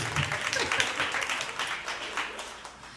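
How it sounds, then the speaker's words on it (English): Audience applause and cheering at a women-of-color community roadshow event, a crowd clapping steadily at moderate volume for about three seconds with some whoops and faint voices mixed in. "let's clap it up for growth"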